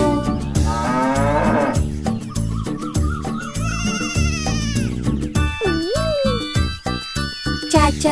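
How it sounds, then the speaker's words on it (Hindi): A cow's moo sung within the Hindi version of the Old MacDonald farm nursery rhyme, set over bright backing music with chimes; the lowing rises and falls once near the middle amid continuous melody and singing. "उनके खेत में थी एक गाय, इया इया यो। यहाँ मुँह मुँह करे, वहाँ मुँह मुँह करे"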